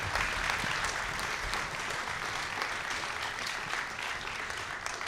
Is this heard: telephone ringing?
no